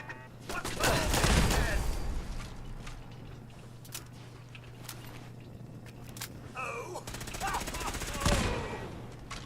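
Turret gunfire in Fallout 4, with bursts of rapid shots that come loud at first and then recur sporadically, over a steady hum with some talk and footsteps.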